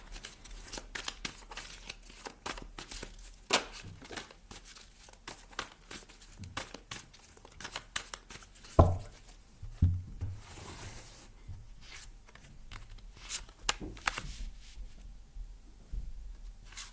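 Tarot cards being shuffled for a reading, a long run of soft riffling, flicking and crinkling clicks, close and quiet, with one sharper knock midway.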